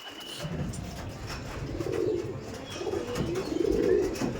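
Tournament pigeons coo close by in repeated soft, low, throaty bursts, a few rolling calls following one another over faint background noise.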